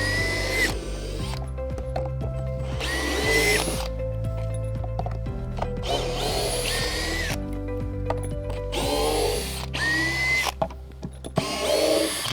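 Power drill backing stainless steel deck screws out of an old wood deck during resurfacing, a steady whirring motor with ratcheting clutch chatter and pitch shifts as each screw spins free, in bursts with brief pauses.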